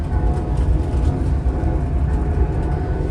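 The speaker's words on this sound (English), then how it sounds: "Another BART train. There's a lot of them." A BART commuter train rumbles past nearby, a loud, steady low roar of wheels and carriages lasting the whole stretch with no talk, heard from aboard a Capitol Corridor train between Emeryville and Santa Clara.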